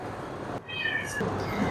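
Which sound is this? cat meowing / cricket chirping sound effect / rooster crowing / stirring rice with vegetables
cat meowing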